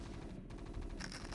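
Rapid rattling gunfire from units target firing in a StarCraft II match, a faint steady burst of shots with no voice over it.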